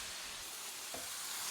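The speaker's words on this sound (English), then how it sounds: "Oh, that's a good sizzle." Chicken sizzling in a frying pan for a rice dish, a steady faint crackling hiss with soft scraping as the pieces are spread out, no voices.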